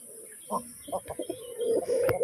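A male native desi pigeon coos close by in a short series of soft throaty calls, followed by a longer rolling coo at the end, with quiet background sounds around it.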